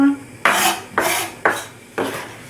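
Knife chopping onion finely on a board, four distinct close, crisp thuds with a sharp scrape, spaced about half a second apart, no talking.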